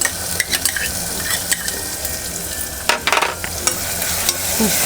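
Ginger, garlic, green chili and coriander paste fries with softened tomatoes in a pan for a chicken masala, crackling steadily while a spoon scrapes and stirs in uneven bursts, close up and without speech.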